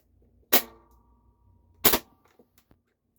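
A Nerf Flipshots Flip-32 blaster fires two sharp, close pops about 1.3 seconds apart, each followed by brief mechanical clicks and rattles, with no talking.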